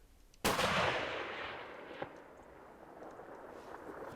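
A single loud rifle shot during a New Mexico elk hunt cracks out in open country, then rolls into a long fading echo across the terrain with a brief later knock.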